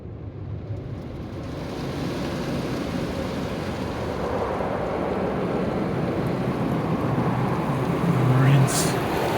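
Rinse water sprays steadily over a car at an Epping car wash, a dense continuous hiss and wash that grows slightly louder toward the end, heard alone.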